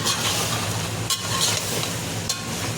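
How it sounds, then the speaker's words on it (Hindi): Salt, chili, coriander and turmeric fry in hot oil for a keema masoor pulao, giving a continuous loud sizzle with occasional scraping stirs. "अब इसमें डालेंगे नमक, मिर्ची, धनिया, हल्दी, चारों चीज़ को डाल के इसको भूनेंगे थोड़ी देर के लिए"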